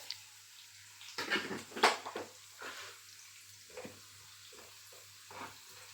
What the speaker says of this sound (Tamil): இந்த பச்சை மிளகாய், இஞ்சி பூண்டு, கருவேப்பிலை இது எல்லாமே நல்லா ப்ரௌன் கலர் வர வரையும் நல்லா வதக்கி எடுத்துக்கலாம்.